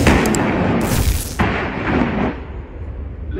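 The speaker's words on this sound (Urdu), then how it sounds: "PNS Tamur and PNS Tohul have successfully fired rocket depth charges" Rocket depth charges fired from Pakistan Navy warships PNS Tamur and PNS Tohul during a multinational maritime exercise at sea: loud booming launch blasts with a sharp crack midway, rumbling and rolling on under wind noise.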